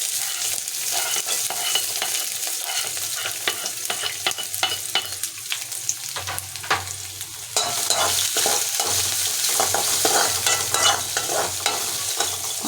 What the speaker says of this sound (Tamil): நல்லா பொன்னிறமாக வர்ற வரைக்கும் வதக்குங்க ஃப்ரெண்ட்ஸ்